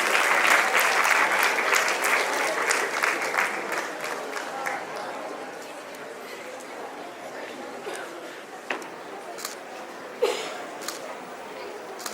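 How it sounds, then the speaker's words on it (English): Sustained applause from a large audience at a school excellence awards ceremony, dense and steady clapping that slowly thins out, with a few louder isolated claps near the end. "A huge round of applause for the winner"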